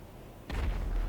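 Cannon fire and an explosion in the video game GTA 5 Online: a single sudden loud boom bursts in about halfway through, followed by a rumbling blast that stays strong to the end.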